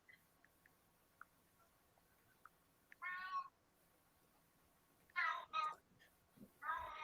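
A pet cat meows several times indoors, three distinct meows spread over a few seconds. They are fairly close and clear over a quiet room with faint ticks and small taps.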